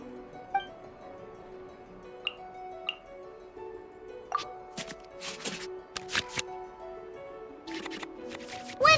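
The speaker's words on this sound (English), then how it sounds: "we can select any number of cards in our hand to shuffle back into the draw pile" Genshin Impact card-game sounds play as cards are shuffled back into the draw pile: soft clicks and papery flicks over a quiet sustained musical backdrop, with a few brighter chimes and swishes later on.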